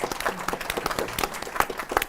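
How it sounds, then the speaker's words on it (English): A small audience at a forest climate-policy event claps briefly, a sparse scattering of distinct hand claps at moderate volume with no speech. "Let's give him a round of applause, even though he can't hear us."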